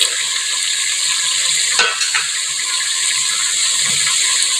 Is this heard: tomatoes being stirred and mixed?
yes